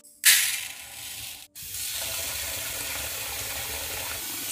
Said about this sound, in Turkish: Suyun rengi normale dönüp benim için pirinçlerin bu kadar yıkanması yeterli.